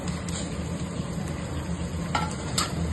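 Green chillies and curry leaves frying in a pan of hot oil, a steady close sizzle with a few brief stirring scrapes and crackles rising over it.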